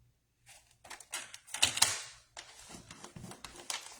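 Paper being scored with a tool for a scrapbook folio pocket, a handful of short scraping and tapping strokes, close and fairly quiet, with no talking.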